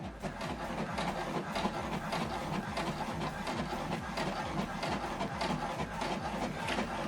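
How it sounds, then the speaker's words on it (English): An HP Deskjet 2800e inkjet printer prints a welcome page with a steady whirring and rapid rhythmic mechanical ticking and shuttling, fairly quiet and close, with no talking. "It's printing out welcome information."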